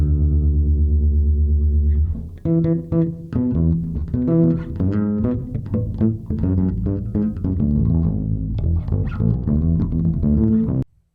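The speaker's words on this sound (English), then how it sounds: "So once I dialed in a pretty deep subby bass sound and added a little bit of reverb" A deep, sustained sub bass synth note on an OP-1 Field opens, then a run of punchy bass synth notes follows in a funk rhythm with a reverberant tail.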